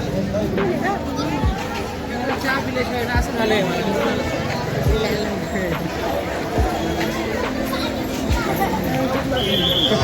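A dense crowd at the Akkalkot Swami Samarth temple: constant chatter and babble of many voices around the listener, steady and moderately loud, with scattered thumps and movement.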